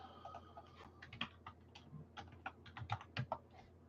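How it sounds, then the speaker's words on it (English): Quick, uneven keystrokes on a computer keyboard, close and fairly faint, with irregular clusters of clicks and a few sharper taps, no talk. "Did not put this camera and keyboard in the right position to type with all my might."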